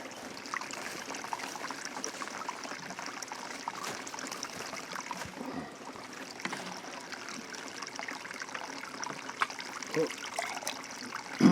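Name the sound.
water pouring into plant pot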